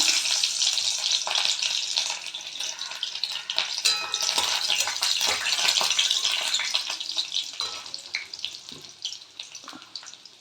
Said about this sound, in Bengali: আমি সর্ষের তেল দিয়ে দিচ্ছি এখানে এই শুকনো লঙ্কা কিছু রসুন